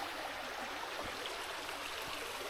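A small stream flowing in the Monts d'Ambazac countryside, a soft, steady trickle and wash of water heard close but faint, with a couple of light dull knocks and no voices.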